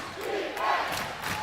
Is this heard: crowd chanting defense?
yes